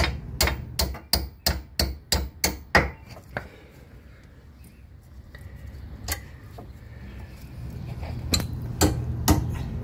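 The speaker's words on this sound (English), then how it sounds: "Remove the ball joint bolt." Ball joint bolt being worked loose on a Chevrolet Sonic front suspension during a wheel bearing and lower ball joint job, with a quick run of about ten sharp metallic strikes followed by scattered clanks and clicks, close and with no talk.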